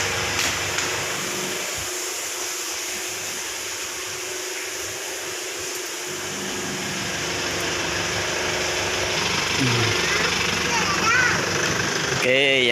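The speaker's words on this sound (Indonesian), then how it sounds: "nanti saya cerita sambil manasin elep" A Mitsubishi L300 truck engine idles while warming up, a steady mechanical hum with some knocking beneath it, with people talking over it throughout.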